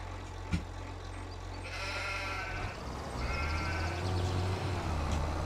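Sheep bleat in the farming game Farming Simulator 25, a few drawn-out wavering calls over a steady low engine drone, moderately close and without talk.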